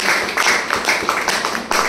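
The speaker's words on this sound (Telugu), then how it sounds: "ఇది వెస్టీజ్ విన్నింగ్ టీమ్ గురించి ఒకసారి గ్రేట్ రౌండ్ ఆఫ్ అప్లాజ్ ఇవ్వాలి." Audience applause for the Vestige winning team at an indoor event, a steady dense wash of clapping running through the whole stretch.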